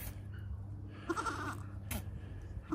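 A goat on a farm gives a couple of short, soft bleats, one in the middle and one near the end, against a quiet background.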